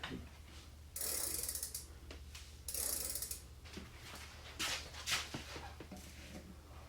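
A bicycle crankset and freewheel on a GT Aggressor Pro being converted to a 1x drivetrain click in quick ratcheting bursts as the crank is turned, a few separate runs of close, crisp ticking with short pauses between.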